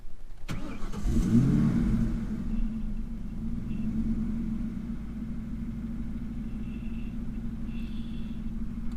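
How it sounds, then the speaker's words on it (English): A 2000 Ford Mustang Cobra R cranks and fires up, then settles into a deep, steady idle rumble heard close and alone. "Start and then turn the car on."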